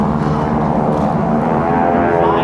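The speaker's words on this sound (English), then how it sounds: "These airplanes powered by a mere 600 horsepower Pratt & Whitney radial engine" GEICO Skytypers airplanes, each powered by a 600-horsepower Pratt & Whitney radial engine, fly past at an air show open house with a loud, steady, throbbing engine drone that holds through the whole stretch.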